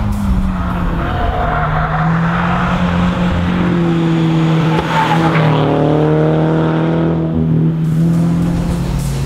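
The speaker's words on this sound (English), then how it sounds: "You can just come into the corner and you can actually just really lean on it." A Toyota 86 corners hard on a race track, its engine droning loudly and steadily while the tires squeal in long sustained wails that rise and fall through the turn, heard close and continuous.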